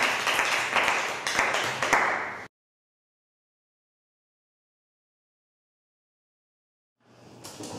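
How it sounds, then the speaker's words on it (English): An audience claps together in a dense, steady patter for about two and a half seconds, then falls silent before a softer burst of clapping returns near the end. "them a round of applause"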